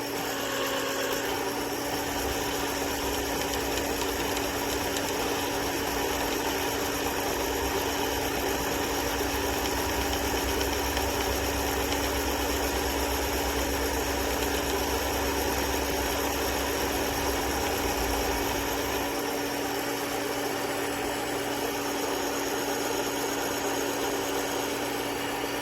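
A machine runs with a steady, loud mechanical whir and hum throughout while trimming the necks of 6.5 Grendel brass cases, and a low rumble drops away near the end.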